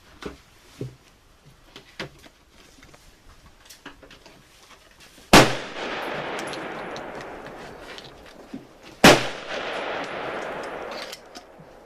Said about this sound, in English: Oh, I'm gonna try the shotgun real quick.